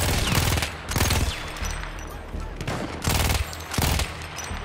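Battlefield 1 gunfire arrives in loud, dense bursts of rapid machine-gun shots, separated by short lulls, against a busy battlefield background.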